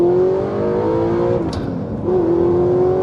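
An Audi R8 V8 with a manual gearbox pulls hard in second gear at around 20 mph. The engine note climbs steadily, breaks briefly for a shift, then settles into a strong, steady drone that is loud and close throughout.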